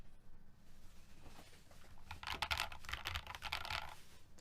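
Keys clack in quick bursts on a mechanical keyboard fitted with a new keycap set. The rapid, close, moderately loud typing runs alone and picks up in the second half.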